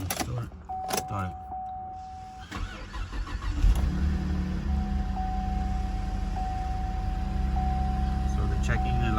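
A 2010 Cadillac CTS with a crankshaft/camshaft position correlation fault cranks briefly and starts, then settles into a steady, fairly close idle that continues to the end.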